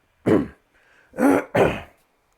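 Three rough throat clearings in a row, close and fairly loud, the last two coming quickly together after a brief pause.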